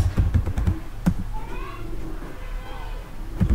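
Keystrokes on a computer keyboard entering an alias command in a Linux terminal, a run of close clicks at the start and a couple of lone taps later, with soft background voices and noise between.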